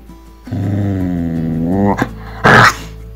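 Dog growling at a forest cat, a sustained low rumbling growl rising in pitch, followed by a short sharp vocal burst, close and loud.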